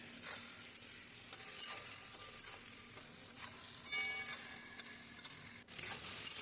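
Potato, eggplant and tomato sautéing in oil in a pan while being stirred, with a steady close sizzle and repeated scraping stir strokes, no talk.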